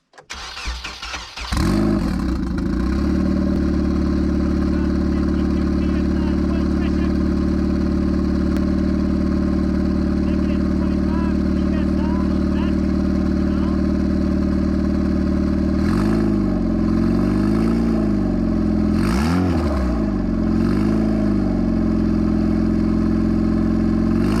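A turbocharged Nissan engine cranks and catches, then runs loudly at a rough idle for a long stretch, with a couple of revs near the end.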